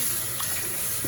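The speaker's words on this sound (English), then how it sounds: "And then I'm just gonna add some more cold water." Cold water runs steadily into a pot of khao poon curry noodles, a close, continuous splashing rush for about a second.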